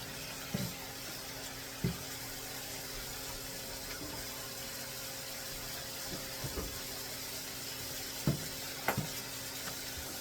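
Chicken tinola boils quietly in a pot, a faint soft simmer broken by a few sharp clicks and pops.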